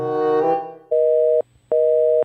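A telephone busy signal as a call fails to connect: two loud, steady beeping tones separated by short silent gaps, following a brief stretch of music and voices.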